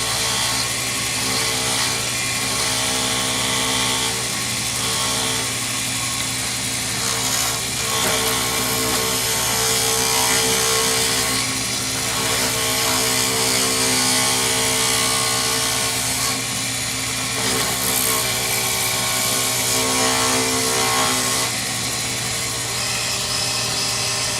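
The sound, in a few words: wood lathe turning faux stone pen blank with skew chisel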